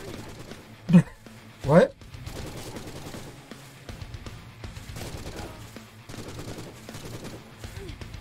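Two loud, sharp blasts from a new weapon in the video game Forgive Me Father, spaced about a second apart, followed by quieter crackling game sounds beneath someone talking in French.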